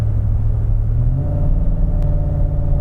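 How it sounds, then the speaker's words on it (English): A car engine downshifts through gears while climbing a hill, its steady low rumble stepping up in pitch with each shift and then holding a higher, constant drone, loud and close throughout. "One downshift, two downshifts."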